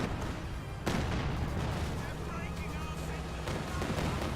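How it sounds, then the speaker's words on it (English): Bombing and artillery fire in the video game Company of Heroes 2, with a sharp blast and then a continuous, rumbling barrage of explosions at mid distance that dominates the whole stretch. "here comes some more bombing"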